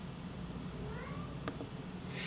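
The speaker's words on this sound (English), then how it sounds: "He's just meowing." A cat gives a short meow, faint against a steady background hum, with a brief click partway through and a soft hiss at the end.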